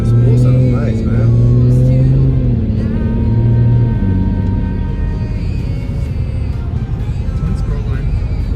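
A BMW 335is fitted with a single turbo drones loudly nearby as its turbo spools, the engine tone sliding and a whine climbing above it, with voices underneath.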